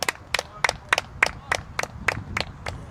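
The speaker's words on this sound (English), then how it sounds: "Let's give him a clap." About ten sharp hand claps in a steady, even rhythm at a baseball game, close and clear over a faint low background hum.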